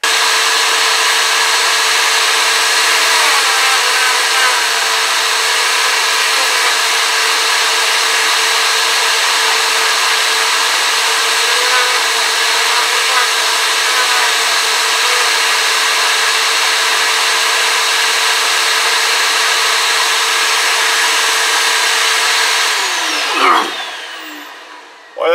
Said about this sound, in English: I'm gonna get out a vacuum cleaner and try to keep this up about half clean as I go.